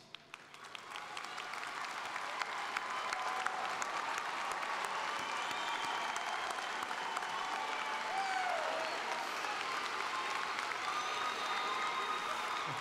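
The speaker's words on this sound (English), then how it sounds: "Will the parents of our candidates please stand and receive our applause?" A university commencement audience applauds standing parents, a long, sustained roar of clapping in a large hall that builds quickly and holds steady, somewhat distant, with a few cheers.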